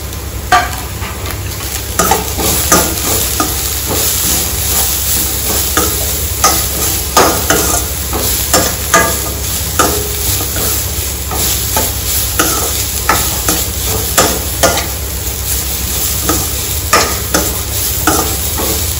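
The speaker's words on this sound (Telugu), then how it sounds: "బీట్రూట్ కూడా వేస్తున్నాను, పచ్చిమిర్చి కూడా వేస్తున్నాను, ఆనియన్ కూడా వేస్తున్నాను" Beetroot, green chili and onion frying for oats upma, a steady loud sizzle broken by regular scraping stirs of a spatula in the pan, with no voices.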